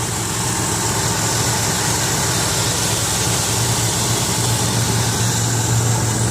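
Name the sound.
2003 Ford Windstar 3.8 V6 engine idling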